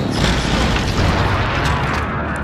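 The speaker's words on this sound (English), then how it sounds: "Bro, you shot your ammunition box" An ammunition box is shot in a video game and erupts in a loud, sustained explosive roar full of crackling bursts and debris noise, dense and close for the whole stretch.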